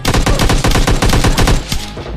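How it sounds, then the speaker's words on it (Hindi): Rapid automatic gunfire in the mobile shooter PUBG Mobile Lite, loud close bursts of sharp shots in quick rhythmic succession with brief pauses between volleys. "सामने मेरे बंदा था, इसने फायरिंग करी थी अभी।"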